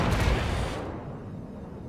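Cannon strafing run from an F-15 jet in the WARNO war game, a dense roaring burst of rapid gunfire for about the first second, then a rumbling tail of low booms fading out.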